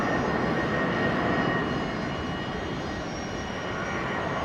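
A Velocity jet airliner departing Brisbane airport roars with a steady, broad engine rush that stays loud and even throughout, with no voices.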